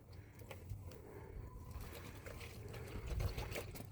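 Water trickles and dribbles as it is poured into a rabbits' drinking dish, a soft, steady liquid stream running close by for a few seconds with no talk.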